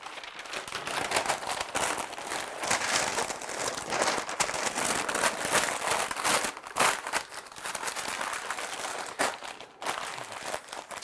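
Butcher paper crinkles and crumples continuously as it is wrapped tightly around a smoked beef belly, close and fairly loud, with brief pauses between folds.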